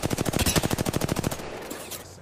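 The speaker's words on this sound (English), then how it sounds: "Oh, this kid's charge rifle is crazy." Rapid burst of charge rifle fire in Apex Legends, a fast regular stutter of shots lasting about a second and a half before trailing off into quiet, with no talk over it.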